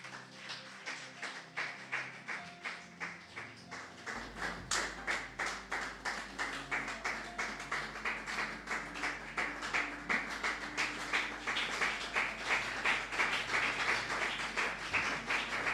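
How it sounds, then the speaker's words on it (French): Church congregation clapping for the word of God, a steady rhythmic handclap that grows louder after a few seconds and keeps a regular beat throughout. "Je voudrais que tu te lèves et que tu acclames pour la parole de Dieu."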